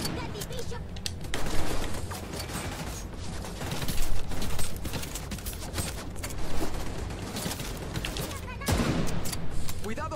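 Dense, continuous volleys of gunfire in the video game The Division 2 crackle throughout, with voices talking underneath the constant shooting.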